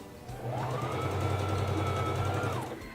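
SINGER Fashion Mate 3333 sewing machine running under foot control, a steady motor hum with rapid needle clatter that ramps up, holds for about two seconds, then winds down, close and alone.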